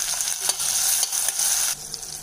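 Tomatoes sautéing in hot oil in a pan for a Tamil capsicum tamarind pachadi, a steady close sizzle broken by a few stirring scrapes.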